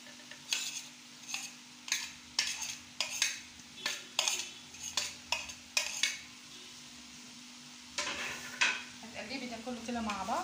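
Onions frying in a pan and stirred with a utensil, heard as a regular series of scraping strokes over a low sizzle, followed by a looser stretch of stirring and clatter near the end.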